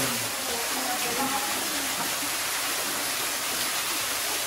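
Spring water pours steadily through a cave garden at Laitmawsiang near Cherrapunji, a constant broad rushing wash with no breaks, close and fairly loud, filling the whole stretch.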